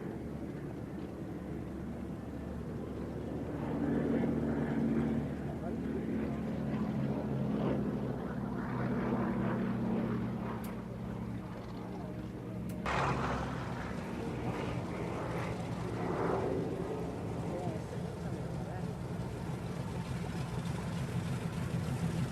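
A light short-takeoff aircraft makes a high-speed pass, its engine drone rising to a broad roar then sweeping past and fading, heard from a distance with a sharp knock midway.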